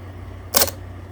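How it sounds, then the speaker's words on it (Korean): A mirrorless camera shutter closes in manual mode with one short, crisp mechanical click, heard alone over a steady low hum. "이건 미러리스 카메라의 셔터예요."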